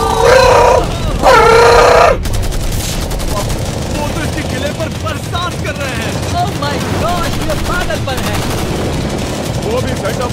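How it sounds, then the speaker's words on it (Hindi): Machine guns firing at a Lamborghini, a dense rattling barrage running steadily for several seconds after a couple of loud shouts at the start. "ये गन्स उन चार फेजेस में से एक है जो हमने इस लैम्बोर्गिनी को बर्बाद करने के लिए बनाए हैं"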